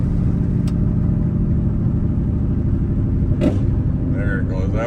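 A twin-turbo Ford F150 with a Coyote engine pulls at wide open throttle, a deep, steady, loud engine rumble heard from inside the cab, with a voice speaking briefly near the end.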